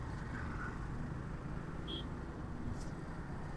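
Dense, steady road traffic in a Dhaka traffic jam, heard from a motorbike creeping forward, with a continuous low engine rumble and a brief high horn-like tone partway through.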